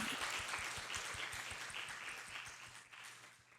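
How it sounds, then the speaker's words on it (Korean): Audience applause closing a keynote session at a conference, a steady wash of many hands clapping that slowly fades over a few seconds. "함께 박수를 치면서 세션을 마무리하도록 하겠습니다."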